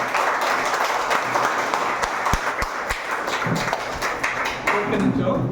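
Audience applause welcoming a mentor to a business session, steady clapping with a few sharp distinct claps, while a voice talks over it.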